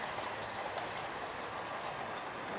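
Water pours steadily into a graduated cylinder from a two-liter bottle experiment, a continuous close splashing and trickling rush with no talk.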